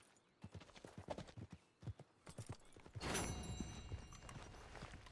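Horse hooves clip-clopping in Red Dead Redemption 2, a run of distinct close footfalls at a walking pace for about three seconds, then a louder burst of mixed game noise as a horse carries on beneath it.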